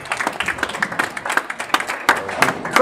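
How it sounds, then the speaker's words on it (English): Candlepin bowling crowd applauding and cheering after a double strike in a championship final, a brief burst of claps and shouts that is loud and close. "Crowd goes wild."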